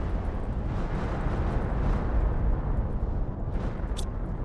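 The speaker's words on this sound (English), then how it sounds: "I love how the explosion doesn't shake anything" A dense, rumbling blast from an explosion in The Planet Crafter, sustained and steady over several seconds with a low roaring body and a small sharp crackle near the end, loud and without speech.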